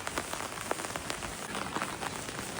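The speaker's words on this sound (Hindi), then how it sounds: "बारिश तो हो ही रही है अभी" Rain falls in Manali, a steady close patter of drops striking a surface, with sharper individual drips scattered throughout and no voices.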